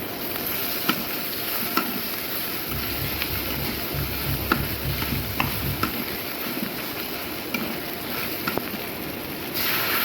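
Ginger, garlic and cumin pastes fry in a pan with a constant moderate sizzle, while a utensil stirs and taps against the pan in a loose, repeated rhythm of sharp clicks, and no one speaks.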